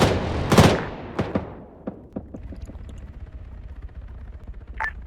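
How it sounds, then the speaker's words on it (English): Gunfire from an Arma 3 battle: a loud opening burst followed by scattered sharp shots and a steady crackle of distant fire, with another crisp report near the end. "so you're hearing the gunfire a little later"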